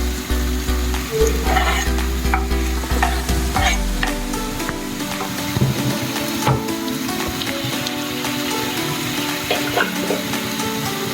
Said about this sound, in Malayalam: ഒന്ന് ജസ്റ്റ് സോട്ടായി കഴിഞ്ഞാൽ ഉടനെ തന്നെ നമുക്ക് പൊടിഞ്ഞ് വെച്ചിരിക്കുന്ന ചെറിയുള്ളിയും സവോളയും കൊടുക്കാം